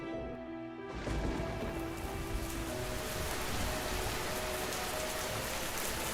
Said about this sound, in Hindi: तभी वहां पे जोर जोर से बारिश हो जाती है।